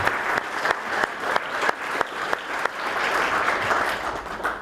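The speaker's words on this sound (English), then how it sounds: "A round of applause." Conference audience at the end of a session: a round of moderate, steady clapping from a room full of people, continuous for several seconds with a few sharper individual claps standing out near the start.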